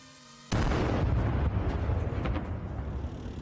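A drone strike explodes on a tank amid a Russian armored column, a sudden loud blast that keeps booming and rumbling heavily for several seconds before slowly fading, with no voices.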